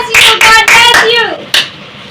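An audience claps for a child at a kids' ministry Biblical Commandments competition, with short bursts of applause close by and a speaking voice over them. A final sharp clap trails off into quieter room noise.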